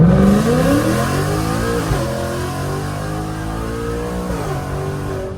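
A 2024 Ford Mustang GT V8 with headers accelerating hard through the gears, a loud, close engine climbing in pitch with brief dips at each shift, steady and dominant throughout with no talking.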